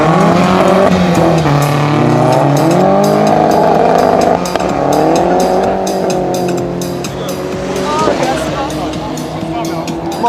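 A Yugo races through a street race course, its engine revving loudly and rising and falling in pitch while tires squeal, and people talk nearby over the engine.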